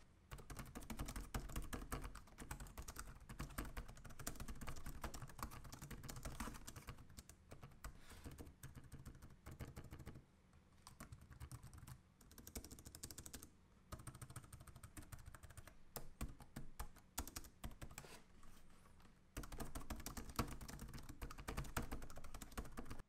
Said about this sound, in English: here's a quick typing audio sample of the keyboard